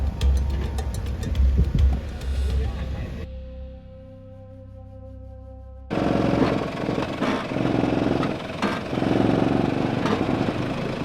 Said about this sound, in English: I swear that's not my bum, that's the exhaust.